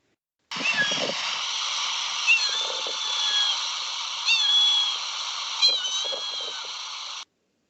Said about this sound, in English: We hear the cat and we see the cat